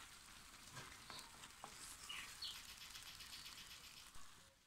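Onion, garlic and tomato frying together in a pan, a faint but steady hiss of sizzling with a few soft stirring scrapes, heard up close without any talk.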